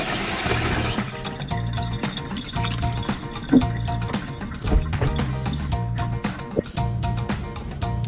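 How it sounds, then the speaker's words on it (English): Tap water runs steadily for several seconds while ground beef is rinsed for keema daal, with scattered drips, splashes and small clinks against the bowl. "now we wash the ground beef thoroughly for like a couple of minutes and let the water drain out"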